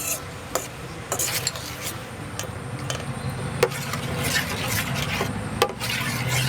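A spoon stirs and scrapes through palm sugar sauce with fish sauce in a pan over low heat, soft repeated rasping strokes with occasional sharper clinks against the metal and a faint simmer beneath.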